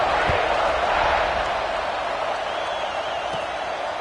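A football stadium crowd roars steadily just before kickoff, a dense, loud, continuous wall of cheering with a faint whistle-like tone rising above it and no clear talk.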